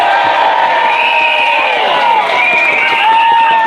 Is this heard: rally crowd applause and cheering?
yes